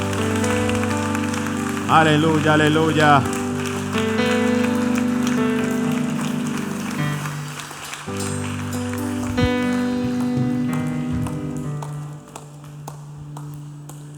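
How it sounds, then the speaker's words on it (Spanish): A church congregation applauds during a worship service, a steady wash of clapping beneath sustained music while a voice sings or calls out over it. "Dele un aplauso al Señor."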